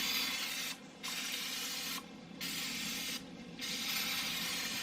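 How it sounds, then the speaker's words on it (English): Three short bursts of cooking spray hissing from a can in close succession, each cutting in and out, with faint background hiss in between. "It definitely does not want to spray unless you are holding it a certain way."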